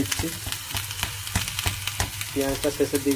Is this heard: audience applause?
no